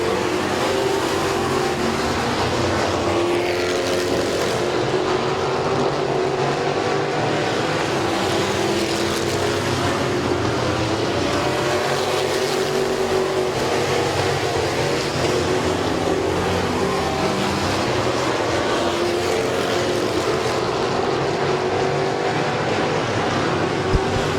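Race cars roar around a speedway oval track, a loud, continuous engine drone with overlapping cars swelling and fading as they pass through the turns, and no voices.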